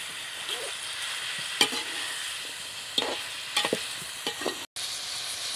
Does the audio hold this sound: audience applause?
no